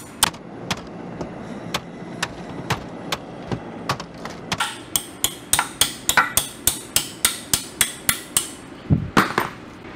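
Sharp metal hammer strikes on bolts during a ZF S5-42 transmission teardown, slow and spaced at first, then a fast, steady run of ringing blows, close and clear.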